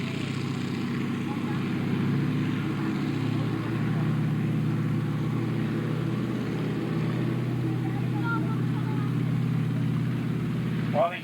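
Military armored vehicles settle into place at an armor show at the Virginia Museum of Military Vehicles, their engines a constant droning rumble held at an even level throughout, with no clear pauses.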